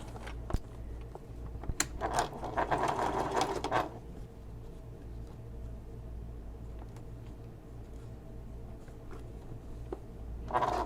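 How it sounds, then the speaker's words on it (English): Sewing machine stitching over existing top stitching on a messenger bag, a steady whirring burst of about two seconds with brief clicks before and after, then quiet room tone. "I'm sewing over my top stitching from before."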